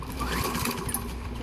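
A cold lawnmower engine is pull-started and gives a brief burst of loud, continuous, rough engine noise close by.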